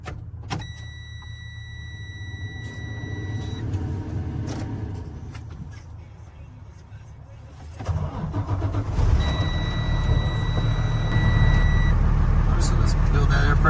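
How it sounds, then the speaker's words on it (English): A Class B truck's diesel engine cranks and catches, then settles into a steady rumbling idle that grows louder as air pressure builds, with warning tones beeping from the cab at start and again later. "I'm going to go ahead and start the engine and build the air pressure up to 120 and 140"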